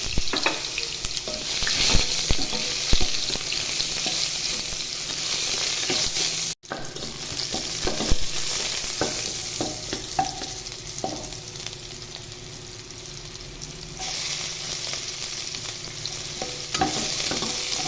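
Ginger sautéing in cooking oil for a mussel soup, with a loud, steady sizzle and frequent stirring scrapes against the pan, broken by a brief cut before the frying carries on.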